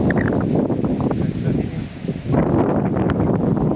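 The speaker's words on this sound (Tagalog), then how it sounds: "Uy, lakas na hangin." Strong wind gusts buffet the microphone on a hillside climb of many steps, a loud, continuous roaring rush that dips briefly midway before surging again.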